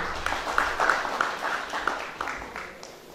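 Applause from a crowd at a celebration-of-life gathering for a DJ, moderate clapping with scattered sharper claps and a faint cheer, fading slightly toward the end.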